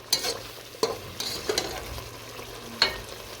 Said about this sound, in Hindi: अच्छी तरह से मिक्स करना है।